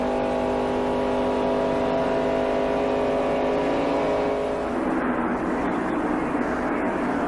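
Stock race cars at the 1993 Daytona 500 roar past loudly, a sustained high engine drone that shifts pitch as the pack sweeps by and fades into a broad rushing blur.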